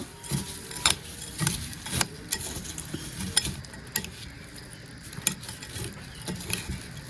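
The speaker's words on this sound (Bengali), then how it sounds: "তো এবার চামচ দিয়ে মাখিয়ে নেব। এবার সুন্দর মতো মাখিয়ে নেব।" A spoon mixes noodles with tomato sauce in a bowl, muri-mixing style, giving repeated soft scraping and clinking strokes in an irregular rhythm, close and fairly quiet, with no talking.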